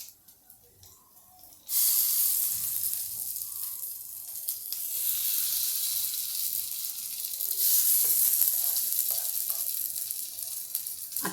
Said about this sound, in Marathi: हे उरलेलं जे पीठ आहे हे पण मी आता याच्यामध्ये टाकून देते